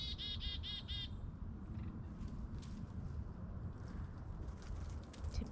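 Nuthatch and titmouse calling at a seed and peanut feeder at Mendon Ponds in November: a quick burst of bright, repeated chirps, then scattered fainter calls over steady outdoor noise.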